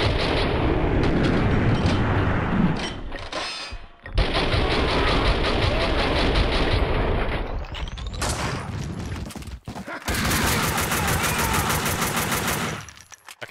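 Dense, sustained gunfire from the Max Payne 2 video game, a loud continuous barrage of shots and bursts with brief pauses near four and ten seconds, filling the whole stretch with no talk.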